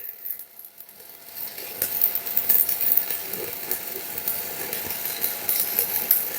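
An arc welder lays a 3G vertical-position test bead with a 7018 electrode, producing a steady hissing, crackling sizzle that starts softly and grows fuller after a couple of seconds, continuous and close with no talk.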